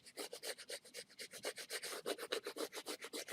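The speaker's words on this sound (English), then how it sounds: "I'm going to squeegee this." A squeegee rubbed repeatedly over Cricut vinyl in a steady series of quick, scratchy strokes, close and fairly loud, with no talking.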